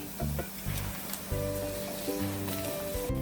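Reserved fish-curry masala hits golden-brown onion in a hot pan, setting off a close sizzle broken by stirring scrapes, with a steady tonal hum running beneath.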